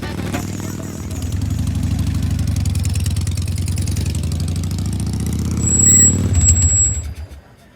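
A motorcycle engine idles close by with a steady, chugging low throb, revs briefly louder near the end, then cuts off.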